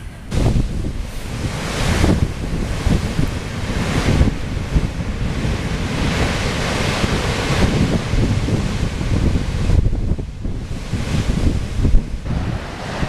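Sea waves crashing over rocks at Kynance Cove, Cornwall, repeated loud surges and bursts of spray roaring through strong wind buffeting the microphone.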